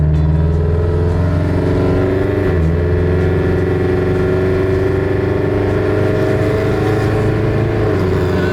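A Subaru BRZ / Scion FR-S / Toyota 86 with a modified exhaust and front pipe accelerates onto a freeway, a loud, continuous droning engine and exhaust note that climbs steadily through the gears, heard close from inside the car.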